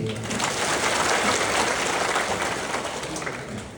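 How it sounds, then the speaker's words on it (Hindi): Church congregation clapping together in praise of God at a revival service in Itanagar, Arunachal Pradesh, a loud, continuous crowd of hands that stays full and then eases slightly toward the end. "इसलिए आइए उस परमेश्वर को एक बार ताली बजाते हैं।"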